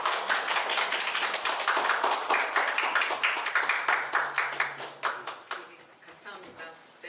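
A church seminar audience in Valencia claps together to welcome a counselor to the front, sustained applause with dense hand claps that thins out and fades near the end, with a little talk in the room.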